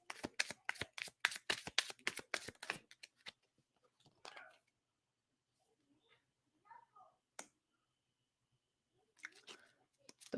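A deck of tarot cards is riffled rapidly at close range, a dense burst of crisp flutters, followed by sparser card handling, taps and soft movements in a quiet room.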